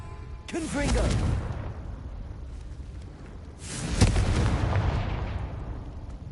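Two heavy fiery blasts from the Confringo spell, cast inside a tomb in Hogwarts Legacy, each burst loud and close with a rumbling tail that fades over a couple of seconds.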